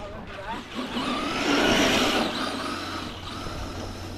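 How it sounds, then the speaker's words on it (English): A Traxxas Slash 2WD RC car with big rear tires and optional high gearing drives through snow, its motor whine rising to a loud surge mid-clip and then easing off. Background noise runs under it. "Today we're gonna be ripping the Traxxas Slash two-wheel drive with the big tires on the back."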